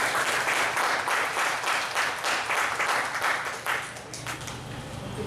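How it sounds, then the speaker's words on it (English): An audience applauds to welcome a speaker at a Cebuano literature lecture, a loud, sustained crowd clapping that fades slightly toward the end. "Please help me welcome Dr. Hope Subanpanyu. A round of applause."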